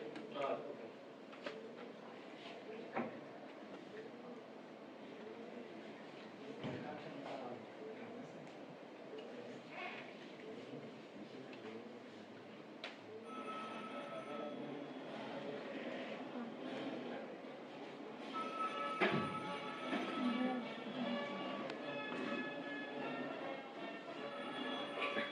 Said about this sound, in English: it is mixed up some what we say train sound and some bell ringing audios we are giving